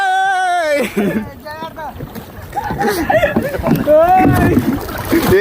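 A boat moves through water off Palolem Beach, Goa, with a low rush and faint splashing, under loud, excited voices talking close to the microphone.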